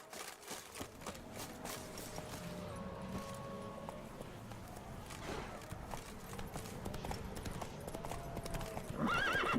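Roach, a horse in The Witcher 3 video game, gallops with steady clip-clop hoofbeats throughout, ending in a loud neigh; faint game music sits underneath.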